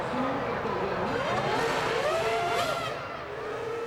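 Formula 1 cars on a formation lap in the F1 2001 video game, engines droning and whining as they pass, pitch rising and falling over a steady loud roar.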